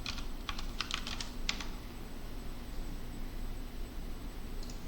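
Rapid computer keyboard typing as a lot of text is entered, heard as a quick flurry of close key clicks at the start over a steady hiss, then fading to near silence without speech.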